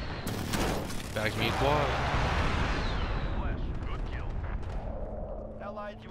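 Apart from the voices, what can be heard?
precision airstrike hitting a tank, video game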